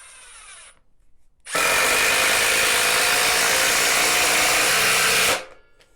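A Milwaukee impact driver drives a 3.5 by 3/8 inch lag screw in one loud, continuous burst of rapid hammering close by, lasting about four seconds between short quiet moments.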